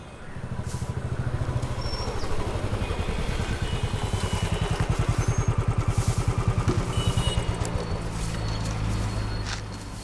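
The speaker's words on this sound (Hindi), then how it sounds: "उस बाइक का इंजन सही कर।" A motorcycle engine idling close by, a rapid regular low thumping that holds steady for around ten seconds with a faint clatter over it and no speech.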